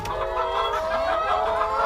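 Hens cluck steadily in a roll-away nesting box lined with AstroTurf, a close, loud run of overlapping clucks and throaty calls with no talk.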